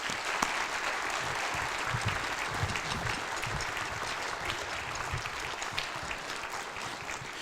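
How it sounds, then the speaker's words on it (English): A concert audience at a school spring band concert gives the cadet band a sustained round of applause, steady and even clapping heard from some distance at fairly low volume throughout. "one more big round of applause"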